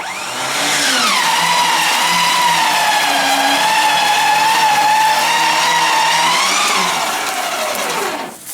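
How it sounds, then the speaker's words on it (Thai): A Hi-Winch twin-motor V2 Gen2 electric winch reels in rope with a loud, close, steady motor whine that rises at start-up, holds for about six seconds, then winds down and stops. "เริ่มกดวินเลยครับ ไม่ต้องติดเครื่องช่วย"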